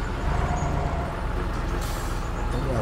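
A heavy truck engine in the off-road mud game Spintires rumbles loudly and steadily with a deep, rough drone, strained and continuous, and a brief hiss near the end.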